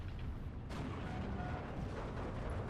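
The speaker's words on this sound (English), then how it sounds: "Oh, just providing artillery support." Artillery fire rumbles through a World War II real-time strategy game, with a Soviet SU-76 self-propelled gun firing in support. Dense, continuous booming rolls through the whole stretch with no talk.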